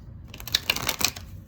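A deck of tarot cards is shuffled by hand close up, giving a quick run of soft papery clicks and riffles over a low background rumble.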